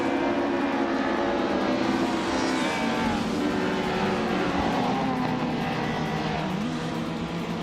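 A pack of race cars, led by a 1999 Peugeot 306 Maxi, launches off the line on a figure-8 track in a racing game, a dense, steady roar of engines droning loudly throughout.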